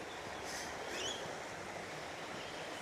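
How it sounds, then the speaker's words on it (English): Serpentine Falls waterfall flowing, a steady, dense rush of water that stays level throughout with no gaps, heard from a short distance. "Can you hear the waterfalls?"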